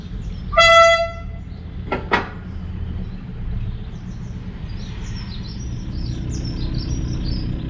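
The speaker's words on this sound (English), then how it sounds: "I've just been congratulated on my air horn skills." A narrowboat air horn gives one short, loud, tonal hoot, followed by a few sharp knocks and faint bird chirps over a low engine rumble on the canal.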